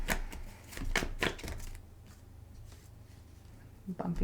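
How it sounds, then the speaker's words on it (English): Playing cards are shuffled in quick, close riffling bursts at the start, then a quieter pause before a few more soft card sounds. "Bumping all these as I'm shuffling."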